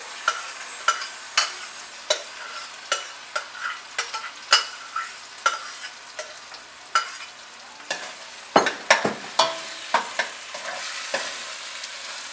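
Mixed vegetables for pav bhaji sizzle softly in a pan while a spatula stirs and scrapes in a steady rhythm of sharp clacks, close and fairly quiet with no voices.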